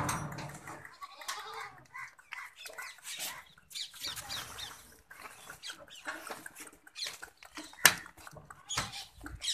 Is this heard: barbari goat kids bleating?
yes